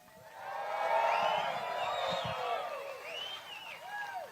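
Crowd at a Bassmaster Elite Series fishing weigh-in in Leesburg on the Harris Chain cheering and whooping, a swelling roar of many voices at middle distance that stays up for several seconds before slowly thinning.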